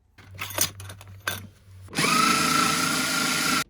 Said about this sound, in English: And that's the drill.